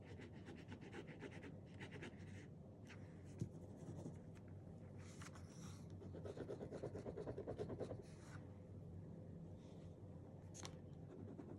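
A white Gelly Roll 08 gel pen writing on paper in a notebook, with soft continuous scratchy strokes and short scribbling bursts, close and quiet with no talking.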